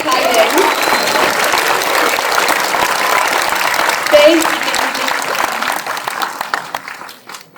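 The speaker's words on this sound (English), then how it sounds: "Can we all applaud for them?" A large audience at a 4-H state speaking event applauds steadily, dense clapping filling the room, with a brief spoken thanks near the middle before the clapping tapers off at the end.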